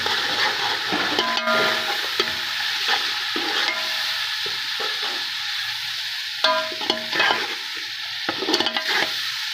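Garam masala, bay leaf, cinnamon and black pepper frying in a pan for chickpea pulao, heard as a steady close sizzle with a few scraping stirs of a spoon.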